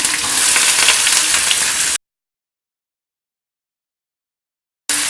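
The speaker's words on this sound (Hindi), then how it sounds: "ये नॉर्थ इंडियन रेसिपी है इसलिए हम प्याज को हल्का गुलाबी होने तक भूनेंगे।" Onions fry in hot oil with cumin and chilli garlic for a North Indian potato and French beans sabzi, a steady close sizzle that cuts off abruptly into silence before briefly returning.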